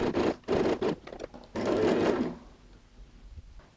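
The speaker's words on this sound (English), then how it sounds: "from the other angle just go and sew a stay stitch" A sewing machine runs a stay stitch along a zipper panel in a few close, rapid bursts of stitching separated by short pauses, then quiets to faint handling.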